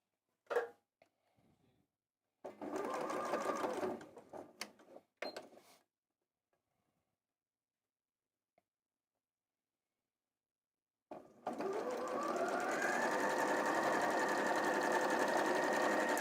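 A sewing machine stitches a quarter-inch seam down the side of a quilt block, with a few short bursts at first and then a long, steady run of close, loud whirring.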